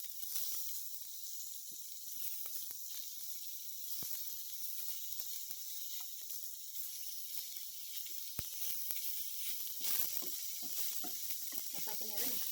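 Food being lightly sautéed in a pan for bun dosa chutney, with a steady, faint sizzle and hiss throughout and a few soft clicks, no talking.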